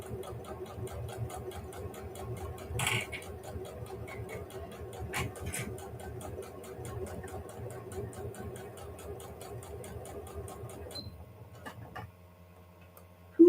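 A home sewing machine stitching quilt-block fabric runs at a fast, steady mechanical tick under a quiet room tone, then stops near the end with a final click.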